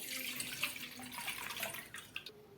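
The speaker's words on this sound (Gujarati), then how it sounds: "ગોળનું પાણી છે તેને હંમેશા આ રીતે ગાળીને જ વાપરવાનું" Jaggery water streams through a kitchen strainer into a vessel while making malpua, a brief soft pouring and trickle with small drips near the end.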